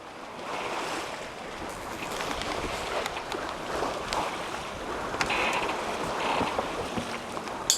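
A sailboat under full sail on open sea off Scotland, with a steady rush of wind and water washing along the hull, splashes rising and falling throughout and no talk.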